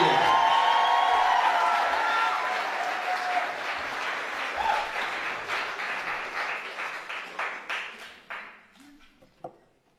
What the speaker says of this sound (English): Give a clap, please.